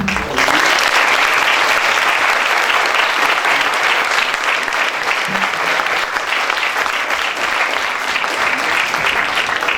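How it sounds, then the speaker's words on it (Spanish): An audience applauds at the end of a university architecture lecture commemorating the 1985 and 2017 earthquakes, with sustained, dense clapping that holds steady and loud for about ten seconds, and a faint voice briefly underneath. "Un aplauso."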